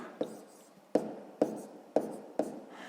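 Numbers being handwritten during a sixth-grade multiplication problem, probably pen on paper: five close, crisp strokes in an uneven rhythm over a quiet background, with no talking.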